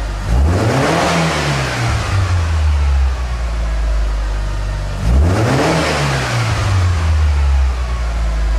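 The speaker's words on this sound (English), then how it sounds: "Now the idea is to have the engine rev crisply when we stab the accelerator" A car engine tuned for transient throttle enrichment revs crisply twice as the accelerator is stabbed, each time climbing sharply from idle, peaking, then falling back. It is loud and close, with no talking.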